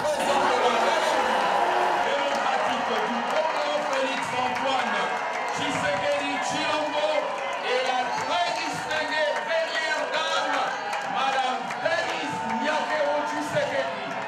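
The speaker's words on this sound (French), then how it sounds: "C'est un déferlement d'applaudissements qui accompagne l'entrée du couple présidentiel dans la salle." A large diaspora crowd in a hall in France bursts into sustained applause, cheers and excited voices as President Félix Tshisekedi and his wife enter, a loud, dense wash of clapping throughout.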